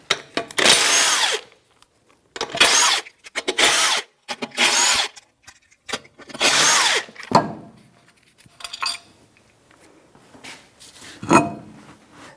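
A power tool with a 21mm socket removes a front wheel on a 2008–2013 Nissan Rogue. It fires in loud, repeated whirring bursts separated by short silences, and the later bursts are weaker.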